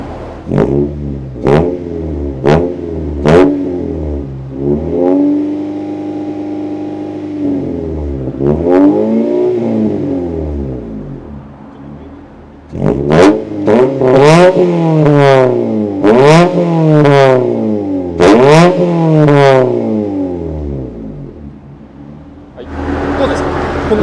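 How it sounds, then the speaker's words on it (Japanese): A Honda Civic Ferio EK3 Vi-RS with an aftermarket exhaust revs repeatedly while parked: sharp blips, a sustained hold at high revs, then a rapid burst of rev spikes, loud and close, with brief pauses between. "マフラーチェックいきます。"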